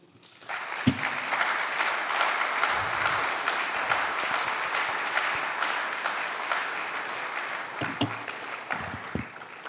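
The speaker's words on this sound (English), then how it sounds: "So a round of applause from Dr. Seto" An audience at a banking roadshow event claps in sustained, dense applause that rises quickly and holds steady for several seconds, with a few bumps and knocks near the end.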